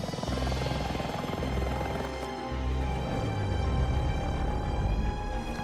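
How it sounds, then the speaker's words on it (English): Helicopter arriving over a forest for a rescue, a loud, close rotor thump with a droning engine whine, continuous and steady with a brief dip before swelling again. "A helicopter! They saw our SOS signal. They're coming to rescue us."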